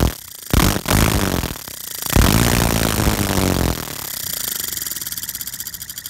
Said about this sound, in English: A little V-twin with a camshaft, air driven.